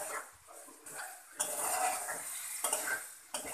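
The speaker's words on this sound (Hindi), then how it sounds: "और अच्छी तरह से चिकन को मिक्स कर लेते हैं दही के साथ।" Chicken mixed with yogurt in a pan gives a soft, faint scraping and stirring under a quiet sizzle, in irregular strokes with brief clinks of a spoon against the metal.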